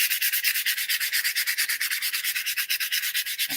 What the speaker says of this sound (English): I had some sandpaper.